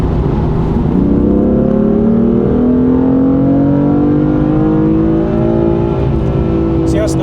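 A BMW M4 engine pulls hard through its rev range, a loud, close, steady drone rising smoothly in pitch over several seconds with no break.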